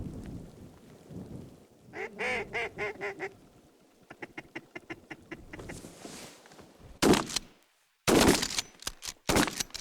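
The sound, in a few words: ducks calling during a duck hunt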